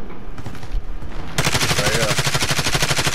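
Automatic gunfire in Call of Duty: Modern Warfare, starting as scattered muffled shots and then breaking into a loud, dense, rapid burst of machine-gun fire that runs steadily to the end.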